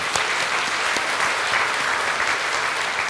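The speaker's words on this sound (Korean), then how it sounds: "우리 청년들을 위해서 다시 한번 격려의 박수 하겠습니다." A church congregation applauds in a sustained, even wash of many hands clapping, close and steady throughout, with no talk over it.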